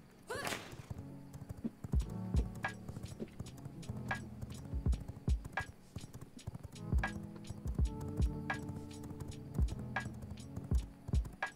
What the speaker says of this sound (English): I'm just riding a horse here.